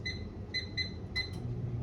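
Faint microwave oven beeps sound while oats heat with water: short high chirps in an uneven sequence of about five to six, quiet over a low background hum.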